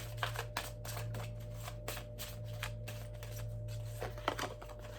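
Tarot cards are shuffled close up in a series of quiet, rapid riffling bursts, with soft papery flicks repeating over a steady low hum.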